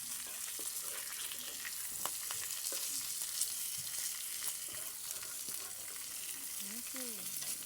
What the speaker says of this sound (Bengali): মাছগুলো আমি উল্টে পাল্টিয়ে ভালো করে ভেজে নেব, লাল লাল করে।